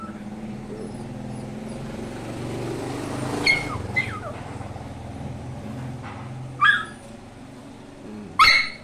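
A small dog left home alone whimpers and yips, with faint whines through the clip and a few sharp, close barks near the middle and end.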